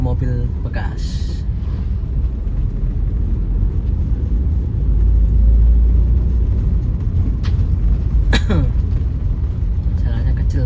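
Toyota Avanza 2012 Type E driving in third gear along a narrow, badly damaged road, a steady close engine and road rumble with occasional knocks and bumps throughout, swelling slightly midway.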